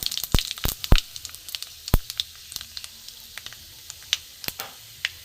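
Panch phoron spices, a mix of black cumin, fenugreek, cumin and fennel, hit hot oil for a vegetarian khichuri and crackle as loud, close, irregular pops and snaps over a soft sizzle.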